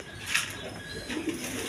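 Pigeons cooing nearby, a couple of soft, low coos against a quiet background, with a brief brighter chirp early on and no talking.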